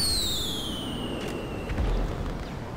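Fireworks crackle and pop across a noisy Grand Theft Auto V game scene, with a descending whistle streaking overhead and scattered bursts over a steady rumble, fairly distant and without talk.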